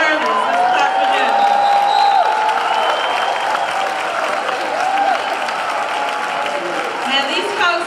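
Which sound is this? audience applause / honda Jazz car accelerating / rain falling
audience applause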